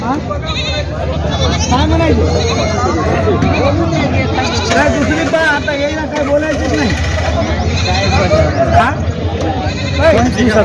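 Goats bleat repeatedly at a busy village goat market in Vasmat, Hingoli, their cries mixed with loud crowd chatter and haggling voices close by.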